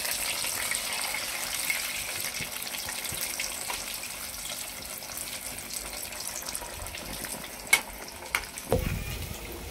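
Potato flower snacks frying in hot oil give a steady, soft sizzle, with a few sharp clinks near the end as they are turned.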